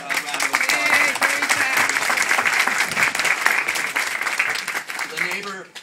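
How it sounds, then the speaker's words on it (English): Sustained, dense audience applause at a political speech on housing and healthcare, loud and steady throughout, with cheering voices mixed into the crowd noise. "Give a great round of applause."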